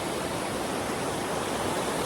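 Creek water rushes steadily beneath a wooden footbridge over Horse Pasture Creek on a foothills trail, a continuous broadband hiss with no breaks and no voices.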